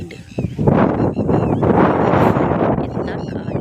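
Strong wind gusts by the Lakkidi river buffet the microphone in a loud, rumbling roar that rises and swells for several seconds, with voices faintly audible under it.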